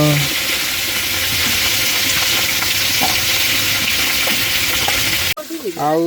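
Large pieces of big fish frying in a pan for a curry, a loud, steady oil sizzle with crackles, ending abruptly in a short burst of nearby voices.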